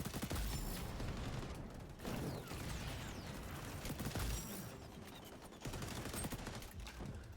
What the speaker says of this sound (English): I heard shots and I thought it was one player.